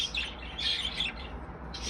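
Short high chirps from an eight-month-old bird, a few bright tweets in quick succession, close and fairly clear over a quiet background.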